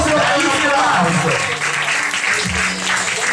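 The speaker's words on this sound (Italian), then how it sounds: "possiamo fare un applauso" A crowd at a Carnival event in Termini applauds as young damsels are selected, loud close clapping mixed with voices talking over it.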